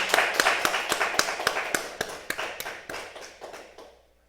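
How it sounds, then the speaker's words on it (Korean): A church congregation claps together in a steady, quick rhythm, about four claps a second. The clapping is loud and close, then fades out over the last second. "우리 한번 영광의 박수 돌렸으면 좋겠습니다."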